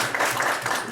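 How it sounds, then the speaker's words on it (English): Audience applause for a guest lecturer at the end of her talk: a dense, steady wash of many hands clapping throughout, fairly loud and continuous. "let's give her a round of"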